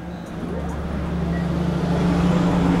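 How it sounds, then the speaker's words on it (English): Buses and other traffic driving by on a road, a steady rumbling roar that swells gradually louder and nearer. "Buses and shit going by."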